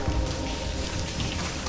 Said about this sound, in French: là on dirait qu'il pleut